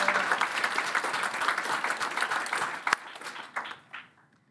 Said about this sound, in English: Please join me in another round of applause for our sponsors.